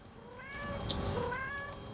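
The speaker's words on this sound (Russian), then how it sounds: "кошка где-то мурчит. Очень четко мурчит." A phone ringtone made from a cat sound plays twice in succession, each a short, clear, tonal meow-like call, moderately loud over a quiet room background with no talking.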